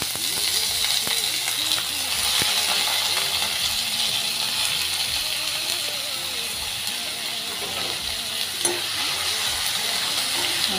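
Potatoes fry with green chillies in a pan, giving a dense, steady sizzle, with occasional scrapes and clinks of a utensil stirring them close by.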